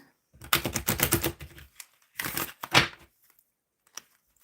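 A tarot deck is shuffled up close in quick riffling bursts. A second flurry follows after a pause, and a few isolated taps trail off into quiet.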